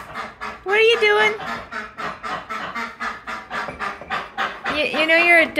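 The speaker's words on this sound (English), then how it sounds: "You know you're a duck, not a chicken" A pet duck quacks repeatedly in short, loud nasal bursts, mixed with a person talking to it close by.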